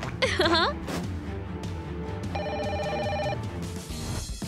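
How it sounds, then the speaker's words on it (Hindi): A telephone rings inside the Five Nights at Freddy's video game. The steady electronic ring rises midway through, over busy game music and a brief voice at the start. "सिर्फ रिंग बज रही है। फोन उठाओ।"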